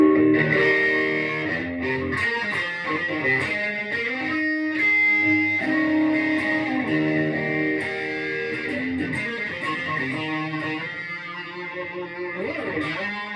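An electric guitar on the bridge pickup plays through an MXR Distortion Plus pedal with gain set around one o'clock, giving moderately overdriven, sustained chords and notes that ring out continuously.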